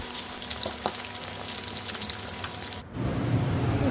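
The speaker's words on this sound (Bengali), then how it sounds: "এখানে আমি পুঁটি মাছ ভাজতে বসিয়ে দিয়েছি।" Puti fish fry in hot oil in a pan, a steady close crackling sizzle that briefly drops before surging louder as the frying intensifies.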